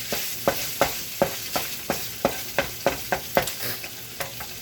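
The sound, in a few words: cooked meat being stirred and scooped in pan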